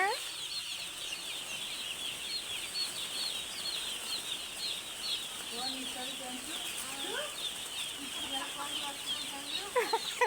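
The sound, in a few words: chicks clucking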